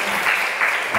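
A congregation at an Indonesian church gathering applauds for children attending despite being sick, a brief, dense burst of steady clapping filling the whole moment.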